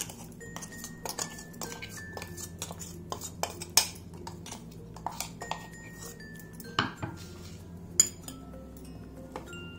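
Spoon scraping and clinking against a metal bowl and grinder jar as ground sesame and jaggery mixture is scooped out, scattered sharp taps and scrapes over a low steady hum, close and fairly quiet.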